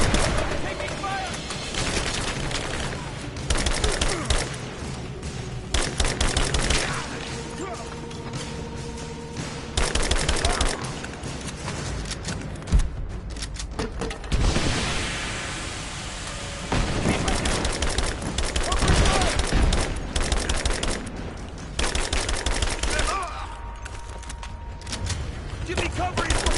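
Gunfire in the video game Rise of the Tomb Raider: dense, continuous volleys of automatic and rapid shots fill the whole stretch, close and loud, with enemy soldiers shouting over the battle.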